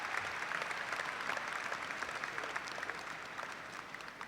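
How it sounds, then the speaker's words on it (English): Applause from a large crowd at a university commencement ceremony, a dense, steady wash of distant clapping that fills the space evenly and fades slightly toward the end. "And applause."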